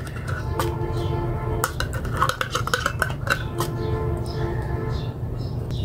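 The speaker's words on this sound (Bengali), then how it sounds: "তো ক্রিমটা দিয়ে আমি ভালোভাবে আবারও মিশিয়ে নিচ্ছি।" A utensil stirs Dano cream into vermicelli in a metal pan, with repeated close scraping and clinking over a steady low background hum while a person talks.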